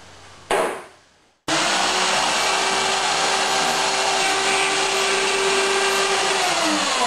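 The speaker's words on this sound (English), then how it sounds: "I've got the daggerboard case roughly routed out" A router cuts out a wooden daggerboard case: a short burst and a pause, then a loud, steady, close whine that runs without a break.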